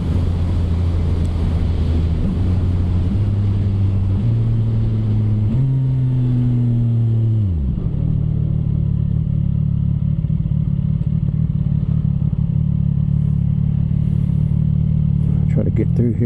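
Motorcycle engine held in the upper gears while riding, heard from a helmet position as a loud, steady drone that climbs through several gear steps and then settles into an even hum, with someone talking over it.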